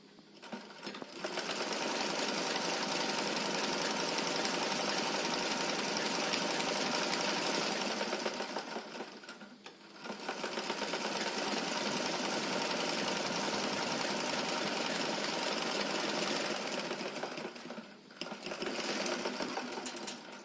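An electric sewing machine stitches a dress made from an old saree, its fast steady whirring running in long bursts with two brief pauses as the seam is sewn; nothing else is heard.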